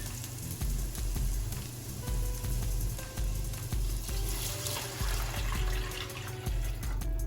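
Water pours into a cooking pot of green beans and parsnips, a steady close rushing stream with pulsing low gurgles, alone without talk.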